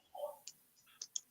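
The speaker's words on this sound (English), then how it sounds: "I'm typing one in now" Fingers type on a computer keyboard, a handful of light, irregular key clicks close by and quiet, alone without talk.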